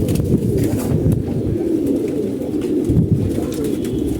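Pigeons coo in low, throaty murmurs, several birds overlapping continuously and close by.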